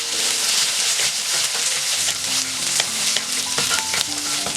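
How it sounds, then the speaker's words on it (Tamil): Small onions (shallots) sautéing with chilies, garlic and cumin in hot oil: a loud, continuous sizzle with occasional stirring scrapes and clinks close by, and no voices. "வெங்காயம் நல்லா வதக்கணும்"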